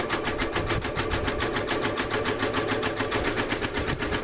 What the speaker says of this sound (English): once this starts sewing the satin stitch, I am going to bump this up to 800